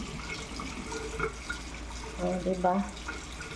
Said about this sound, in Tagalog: Sa faucet umiinom.